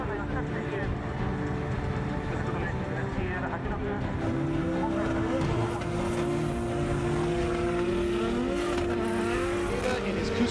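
A Cusco Racing GR86 drift car screams into a corner at Ebisu with a sustained high-revving engine wail and shifting pitch. An announcer's voice runs over the top throughout.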